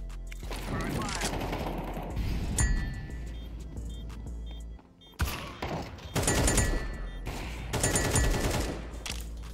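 Rapid gunfire bursts in Counter-Strike 2, loud and continuous with metallic clinks and short pauses, sounding close amid game effects.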